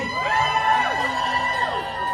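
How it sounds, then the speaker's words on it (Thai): Fans at a party screaming and cheering on cue, a loud sustained wave of shrill, overlapping high-pitched shrieks and whoops from a crowd. "ขอเสียงกรี๊ดหน่อย"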